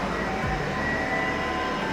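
A metro train rumbles in with a steady low roar and faint high whine, loud and continuous throughout.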